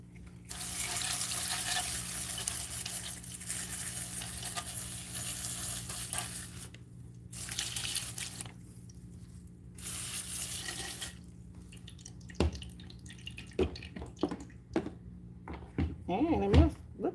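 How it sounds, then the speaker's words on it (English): Running water from a tap rinses soil off the roots of a bonsai cherry tree in long steady bursts that stop and start, followed by scattered drips, handling noises and splashes close by. "this is just water that I am removing the soil from the roots with"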